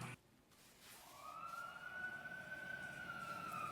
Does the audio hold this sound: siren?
yes